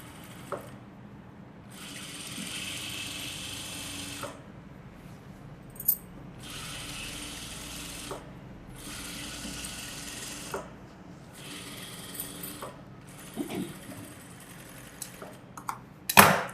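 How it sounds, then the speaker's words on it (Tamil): A sewing machine stitches chudithar fabric along a marked line, running in several whirring, ratcheting bursts of a couple of seconds each, separated by short pauses, and ending in a sharp click. "இப்போ நான் ஃபஸ்ட்டு தையல் போடுறேன், அதை பார்த்து நீ இன்னொன்று தைக்கணும்."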